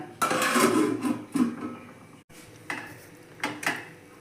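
A metal lid clanks onto a cooking pot of fish curry on the stove. One sharp clatter of lid against pan is followed by a few lighter metallic taps and scrapes, close and fairly loud, with no talking.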